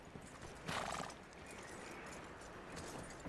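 A horse in Red Dead Redemption 2 on a snowy trail whinnies loudly once, followed by soft, steady hoof clops and shuffling that continue quietly on their own.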